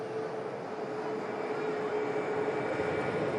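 Ryanair airliner taxiing onto its stand at an airport, a steady distant jet engine roar with a faint whine, constant and even throughout.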